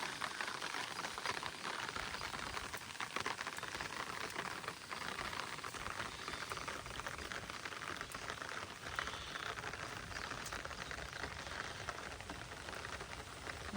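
Water running across a farm field after heavy rain, a constant dense wash of gushing and spattering that stays even and fairly close throughout, with no voices.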